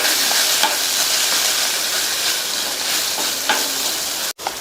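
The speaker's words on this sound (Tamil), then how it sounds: "இதுல 1/2 டீஸ்பூன் தனி மிளகாத்தூளும் 1 டீஸ்பூன் கொத்தமல்லி தூளும் சேர்த்து நல்லா வதக்கிக்கலாம்" Chili powder and coriander powder sauté in a pan with a steady close sizzle and occasional stirring scrapes, continuous throughout with a brief clatter near the end.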